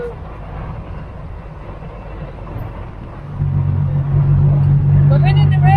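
Loud motor rumble of a tuk tuk ride through Bangkok traffic, the engine note rising and growing heavier partway through as it speeds up, with people talking over it.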